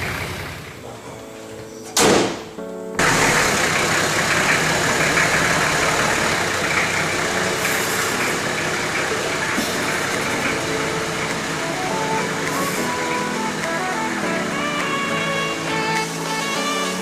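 A serviced Toyota Land Cruiser engine runs at a steady, close idle. A door thuds shut early on, and the engine drones on evenly afterward.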